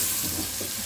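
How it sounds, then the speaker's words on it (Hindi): Okra frying in a pan with green chillies for masala bhindi gives a steady, close sizzle with soft crackling throughout, no voices present. "भिंडी हमारी फ्राई हो रही है।"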